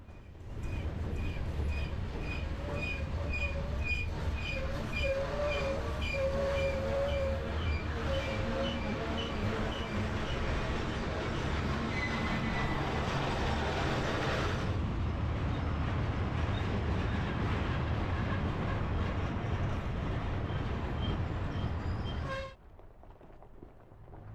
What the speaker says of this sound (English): And we're coming up on the end of the train here.